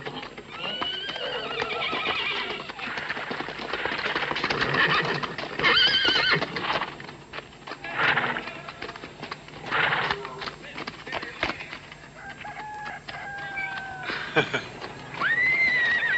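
Colt neighing and whinnying repeatedly, with clip-clop of hooves, in an outdoor Western film scene; several high whinnies rise above steady hoofbeats and background talk.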